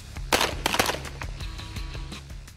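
Gunfire crackles during Pakistan Army assault firing practice, in which shooters roll out of a moving car: sharp bursts of several rapid shots, then scattered single reports at a middling distance.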